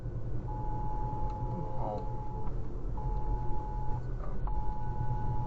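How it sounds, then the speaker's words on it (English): Dashcam recording from a car on a mountain drive in Taiwan as an earthquake warning goes off: a series of long, steady electronic beeps in repeated bursts over road and engine rumble. "the dashcam picks up on a series of beeps"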